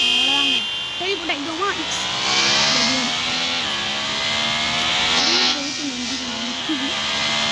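Motorbike engine revving at high speed in the Traffic Rider video game: a steady, loud whining engine drone with pitch rising and falling, under someone talking throughout.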